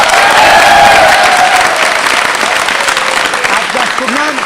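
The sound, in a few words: studio audience applause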